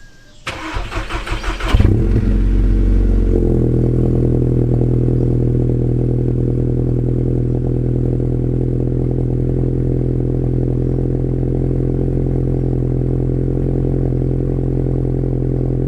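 Tuned Volkswagen MK6 GTI with a catless Circuit Works downpipe: a short burst of clatter gives way to the engine catching and settling into a steady, loud, close-miked idle drone with a raspy exhaust tone, no talk.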